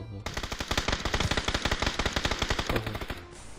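Rapid automatic gunfire in PUBG, fired through a smoke grenade: a steady stream of about thirty evenly spaced shots over three seconds, close and loud, ending abruptly.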